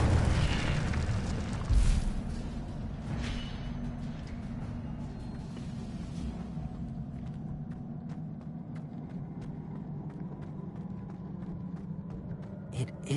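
An Incendio fire spell from the Hogwarts Legacy video game, a whooshing burst at the start that settles into a steady, roaring crackle of flame, gradually softening over several seconds.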